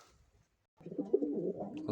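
After a short silence, a soft, low pigeon coo starts up close by and continues, muffled and murmuring.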